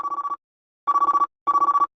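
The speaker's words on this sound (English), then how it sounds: "he called me on the phone" A telephone rings with a classic trilling electronic bell, three loud bursts of rapid pulses separated by short silences, close and clear with no voices.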